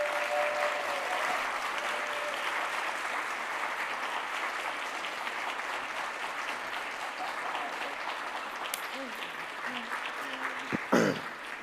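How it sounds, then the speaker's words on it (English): A closing-ceremony audience gives sustained applause, a dense wash of clapping that holds steady for more than ten seconds before thinning, with a short burst of microphone noise near the end. "can we give a great big round of applause for my friends and colleagues as they come before us?"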